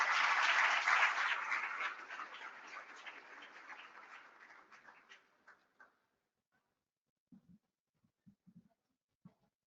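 Conference audience applause welcoming a young cancer survivor onto the stage, loud and dense at first, then thinning over about five seconds into a few scattered claps before near silence.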